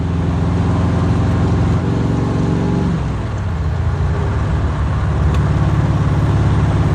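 A 1968 Chevy Camaro with factory gauges and tach drives along, its engine drone steady and loud, easing briefly in pitch midway before building again, with road noise throughout.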